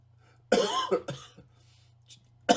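A person coughs several times in quick, harsh bursts, pausing briefly between them, with a final cough at the end.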